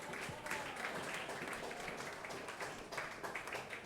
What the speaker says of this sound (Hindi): ताली बजा लो।